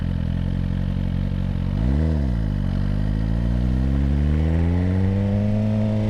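A 2025 Suzuki GSX-R1000R sport bike with only 1,000 miles being ridden through a neighborhood, its loud close engine note dipping and rising in a quick rev around two seconds, then climbing steadily in a long smooth acceleration.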